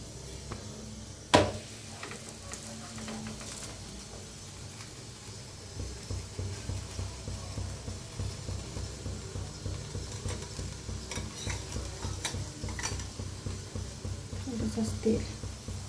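Puran poli roasting on a hot pan, a soft continuous sizzle and light scraping that grows steadier after an early thump, with speech tagged though no words were transcribed.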